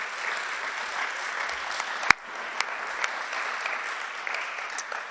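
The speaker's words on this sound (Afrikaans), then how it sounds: "Kom ons klap vir hulle hande." Congregation clapping steadily through an evening church service, a dense, even wash of applause with a few sharper individual claps standing out, no voices over it.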